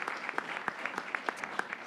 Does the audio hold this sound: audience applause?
yes